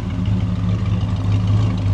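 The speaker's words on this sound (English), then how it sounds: "The exhaust sounds good." A 1957 Chevy Bel Air 2-door runs steadily through its exhaust with a deep, even, close-up rumble and no talk.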